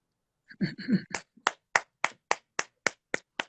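Hands clap in a steady run of about eight sharp, evenly spaced claps, close and moderately loud, after a couple of softer muffled knocks, with no voices.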